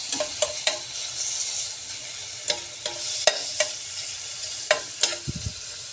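Cabbage and chicken breast stir-frying in a stainless steel pan, with a soft steady sizzle broken by several sharp scraping and clanking strokes of the spatula against the pan, close and without talk.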